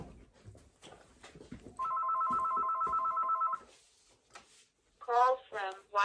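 A desk telephone rings with an incoming call in a steady electronic trill lasting nearly two seconds, preceded and followed by nearby conversational speech, with a short synthesized voice announcement near the end.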